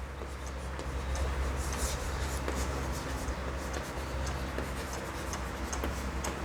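Chalk or marker writes on a board during a physics lesson on electric flux, giving faint, scattered ticks and scratches under steady room noise.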